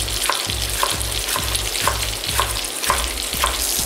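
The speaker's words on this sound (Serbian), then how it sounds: "I dok se krmenadla prži" Pork chops frying in a pan, a steady close sizzle with crackle and a soft repeating low thump about every half second, continuing without pause and with no voices.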